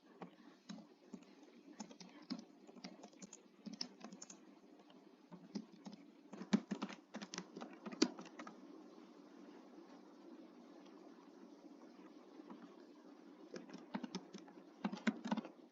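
Keys clatter on a computer keyboard as search keywords are typed into a search field, bursts of quick clicks separated by brief pauses, close and fairly quiet with no voice over them.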